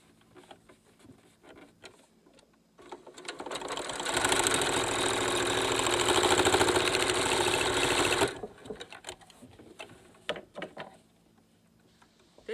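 A sewing machine runs a straight stitch along a folded yellow strap holder on a fabric face mask, a steady whirring burst of about four seconds after quiet handling noises, then it stops and light rustling follows.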